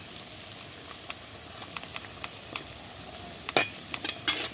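Bottle gourd peel chops fry in hot oil, making a faint steady sizzle with scattered small pops and light utensil clicks that grow a little busier toward the end.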